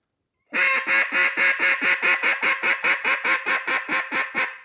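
Duck call blown in a fast run of basic quacks, about eighteen evenly spaced, loud nasal notes in a steady rhythm, close and alone without talking.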